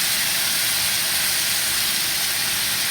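Herbs and spices sauteing in a pan for a Mexican rice and barbecue salmon dish: a steady, loud, close sizzle and hiss running unbroken throughout.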